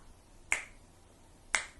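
Hands clap twice during a grade 3 music rhythm lesson, giving two crisp, close claps about a second apart with quiet in between.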